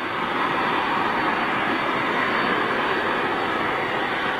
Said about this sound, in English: Looks like KLM 737 just firing up, headed out to Amsterdam.